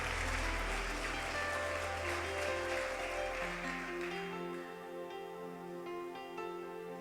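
A church congregation applauds, a steady wash of clapping over sustained musical tones that gradually thins and fades, leaving the music to carry on.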